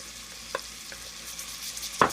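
Carrots, celery and garlic are stirred in a pot for tomato bisque, giving a soft steady sizzle broken by a few brief scraping clicks of the spoon, close by.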